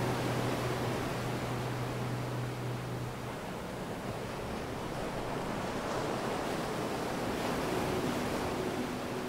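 Sea waves at Big Sur, California: steady, broad surf wash rolling continuously at moderate distance, with some wind, no voices.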